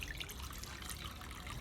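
Water drains off washed chana dal being prepared for puran poli, a faint, steady trickle running without pause through the short stretch, with no voices.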